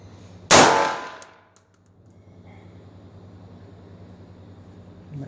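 A single loud, sharp bang from a Walther PP replica pistol firing a 9mm blank round, ringing briefly before it decays into a quiet background hum.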